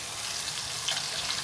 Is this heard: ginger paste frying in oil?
yes